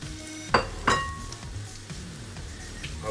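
Mushrooms hit hot olive oil in a pan with a couple of sharp sizzling bursts, followed by quieter frying and light stirring clatter.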